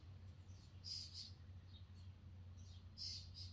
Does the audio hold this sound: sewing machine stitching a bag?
no